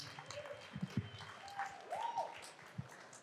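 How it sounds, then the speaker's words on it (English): Audience applause for panelists on stage at a tech panel, a steady wash of many hands clapping at moderate distance, fairly quiet, with faint tones and murmurs beneath. "Give a round of applause for these brilliant people up here on stage."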